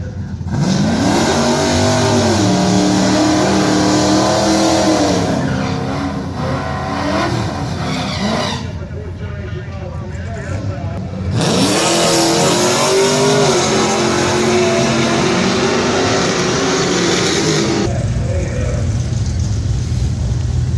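A car engine revs loudly and close at Sick Week 2025 drag racing event, rising and falling in pitch through repeated bursts with a brief quieter dip midway.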